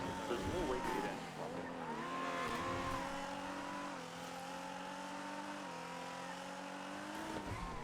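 A Ferrari with a V12 engine in a roleplay driving game, a steady high engine whine that rises and dips with gear changes and throttle, heard continuously at moderate volume with possible tire noise.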